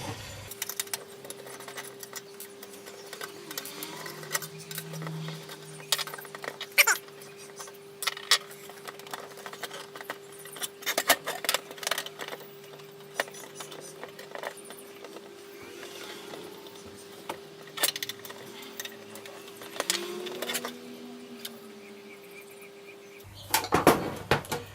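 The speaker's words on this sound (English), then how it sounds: "It's just a matter of unscrewing these side panels." Small screws being undone from the side panels of a Nissan 350Z tape deck, faint metallic clicks, scrapes and light taps at close range in a quiet room, with a steady low electrical hum beneath.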